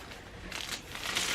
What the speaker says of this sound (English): So it comes inside this little plastic bag.